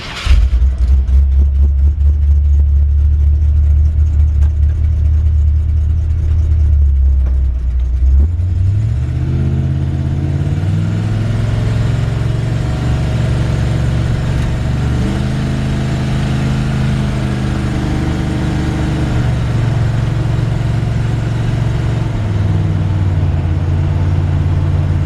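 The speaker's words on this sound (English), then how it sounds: "The engine runs super strong. It's got a aggressive exhaust system on it." A 1967 Chevrolet C10 truck with an aggressive exhaust drives along, its loud, steady engine note rising and falling through gear changes and throttle, close and continuous with no talking.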